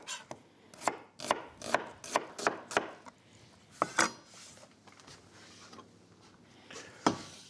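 Onion being chopped with a knife on a board: about a dozen sharp, close knife taps, a quick run of strikes followed by sparser chops.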